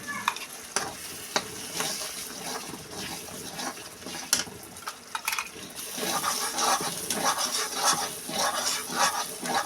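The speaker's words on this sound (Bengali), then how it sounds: "এখন দিতে হবে আগে থেকে সেই বেটে রাখা সরষে বাটা।" Mustard paste hits pabda fish frying in a pan, a dense hiss of sizzling with intermittent stirring scrapes and sharp clinks throughout, growing busier toward the end.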